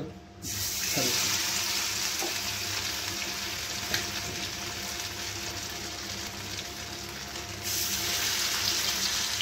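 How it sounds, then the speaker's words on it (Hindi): Marinated fish pieces fry in mustard oil, a dense, steady hissing sizzle that runs nearly unbroken for the whole stretch, close and fairly loud. "तापर हमें सरिष तेल किछि नै जबा माछटी को हमें फ्राई कर दबा"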